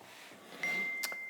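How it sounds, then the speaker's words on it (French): A phone notification beep: a single steady electronic tone that holds for under a second, with a couple of short bright blips near its end, over quiet background hiss. "Ah, donc là, il reçoit une notification."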